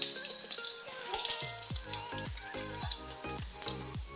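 Cumin seeds, dried red chili and a bay leaf frying in hot oil in a kadai, a steady crackling sizzle broken by several soft, rhythmic low thumps from the pan, close and moderate in level with no speech.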